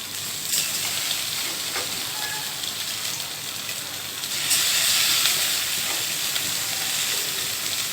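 Rice dropped into hot ghee and oil in an aluminium pot sizzles steadily with a broad frying hiss, which swells louder about halfway through and then holds, with no talking.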